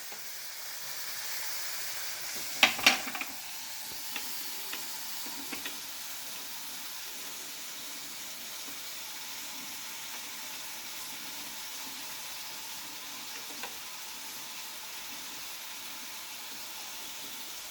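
Onion browning in a pan for a Goan Saraswat pomfret dish gives a steady soft sizzle and hiss throughout, with a few sharp clinks of a utensil near the start.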